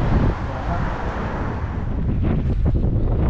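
Cold wind in Abha, Saudi Arabia, buffets the microphone in a continuous low, rough rumble, loud and close, with faint muffled sounds underneath toward the end.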